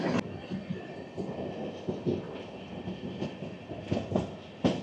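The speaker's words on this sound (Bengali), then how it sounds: "দমদম স্টেশন পার করে ট্রেনটি ছুটে চলেছে বালিহল স্টেশনের উদ্দেশ্যে" The Kanchanjunga Express runs through Dum Dum station without stopping, a close, steady rumble broken by regular rhythmic clacks of wheels over rail joints.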